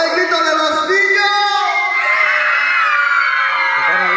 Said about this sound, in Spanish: A ver, ¿cuánto hay grito de los niños?